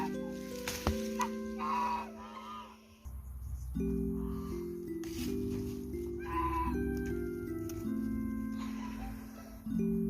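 Chickens cluck in a village yard, several short calls rising over a steady low hum and other farm animal noise, fairly close and without talk.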